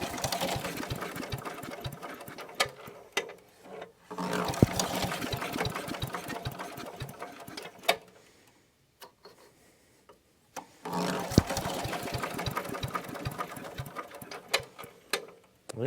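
Small engine on a barn-found Craftsman wood chipper sputtering with the choke on, rapid mechanical chatter in bursts that cut out for a few seconds mid-way before picking up again, close and moderately loud.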